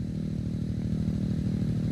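Motorcycle engine in the video game Elite Motos 2, a steady low buzzing drone that holds an even pitch throughout, close and fairly loud, with no talk over it.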